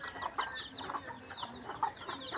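Brahma chickens clucking in a garden pen, soft repeated clucks and chirpy calls at a modest distance over a faint outdoor background.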